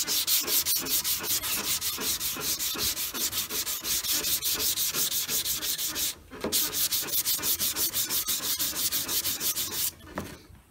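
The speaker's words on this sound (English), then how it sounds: "use my little block. And then we'll sand. My crosshatch pattern." Hand sanding a 1979 Ford F100 truck body with a sanding block in a crosshatch pattern, rapid rhythmic rasping strokes close up and steady, with two brief pauses.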